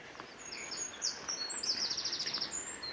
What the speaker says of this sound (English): Plenty of birds.